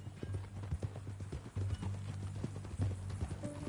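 Horse hooves clip-clop steadily at a walking pace in Red Dead Redemption 2, close and fairly loud over a low, constant ambient hum.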